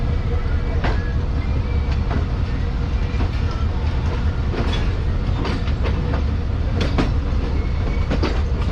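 A Subak Raftar railcar train pulls out of Lala Musa junction, its wheels clacking loudly and steadily over rail joints under a constant heavy rumble.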